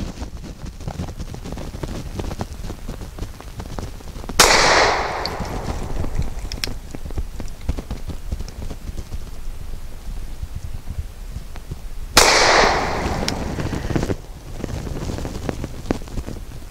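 Two sharp, loud pistol shots from a Grand Power P1D loaded with Federal low recoil Hydroshock 135 grain ammunition, spaced about eight seconds apart outdoors, each with a brief echoing tail over steady wind buffeting the microphone.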